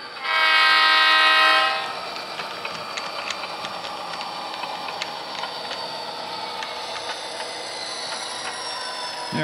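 A train horn sounds one long, loud honk for about two seconds, then the train rolls on with a steady rumble and scattered clanks from the cars.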